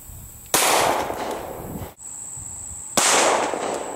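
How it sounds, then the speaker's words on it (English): Two sharp, loud gunshots from a Glock 22C .40 caliber pistol with a full-length compensated barrel, fired about two and a half seconds apart at a body armor test, each with a long ringing decay. "the gun used for the 40 caliber test will be the Glock 22C"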